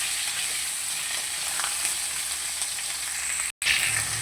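Pumpkin stems and cut potato frying in a pan, a steady loud sizzle that runs on alone, broken by one brief dropout near the end before resuming.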